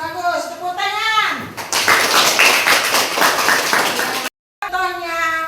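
Children in an elementary school classroom clap their hands together in a dense burst lasting a few seconds, with a teacher's speech before and after.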